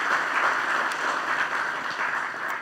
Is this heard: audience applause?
yes